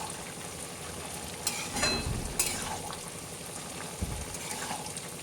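Bottle gourd curry sizzles and bubbles in a pan as lentil fritters go in, with a steady frying hiss, a few sharper splutters and stirring scrapes up close, and no talking.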